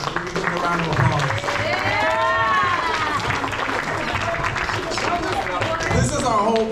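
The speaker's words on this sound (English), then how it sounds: "give a round of applause" A crowd at a school cheerleading and sports banquet claps and cheers loudly and steadily, with whoops and excited voices mixed into the dense applause throughout.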